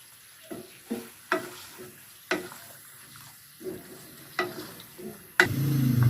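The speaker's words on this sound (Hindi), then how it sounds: "मटन डालने के बाद अब हम इसको मिक्स करेंगे।" Mutton for karahi being stirred and fried, with spaced scraping strokes of a spoon in the pan over a soft sizzle, ending in a louder burst of frying, close up, no talking.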